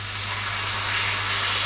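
A steady, loud hiss of water sizzling and steaming as it is added to frying onions in a hot pan, continuous with a low hum underneath.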